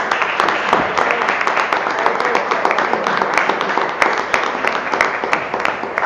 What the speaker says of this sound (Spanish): solicitamos un último aplauso para todo